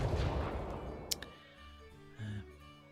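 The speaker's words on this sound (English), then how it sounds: "do a little counter battery fire" Counter-battery artillery fire in a Napoleonic-era strategy video game: a rumbling cannon blast that fades, followed by a couple of sharp reports and a short tonal game effect.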